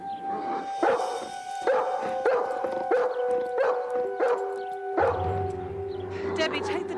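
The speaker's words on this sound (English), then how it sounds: "look at the dear dog Mrs. Pennyworth got for the cottage" A dog at a cottage barks in a rhythmic run of about seven loud, howling yelps over a sustained tonal background, followed by a lower drawn-out sound near the end.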